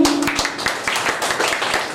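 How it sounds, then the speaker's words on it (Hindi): An audience applauds for a doctor at a birthday celebration in an office, steady dense clapping from a group with a brief tone at the start. "तो डॉक्टर साहब के लिए बहुत सी तालियां होनी चाहिए।"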